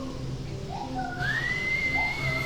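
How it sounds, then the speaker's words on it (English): Magical whistling into a cup in The Owl House: a thin, rising, sustained whistle over a low background hum of music. "magically whistling into somebody's cup is a pretty cool party trick"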